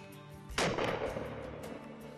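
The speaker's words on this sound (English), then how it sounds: "It withstood uh, the shot from the 12 gauge." A 12 gauge shotgun fires once at close range into a sunglasses lens during an outdoor impact test, a single loud sharp blast with a lingering rumbling decay and no voices.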